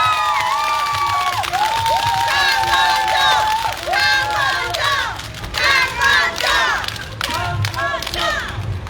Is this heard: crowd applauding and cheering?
yes